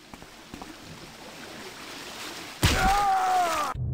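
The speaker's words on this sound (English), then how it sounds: "Just seeing if I could tease it by swimming in the waterfall" Splashing and swimming through a waterfall in a Thief video game fan mission: quiet ambient drips and movement at first, then a sudden wash of rushing water and plunging splash sounds that cut off abruptly.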